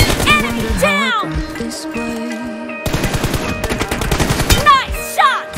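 Rapid gunshots from a video game shooter, delivered in clustered bursts with brief pauses between them. Game voice lines and chatter mix in over the shooting.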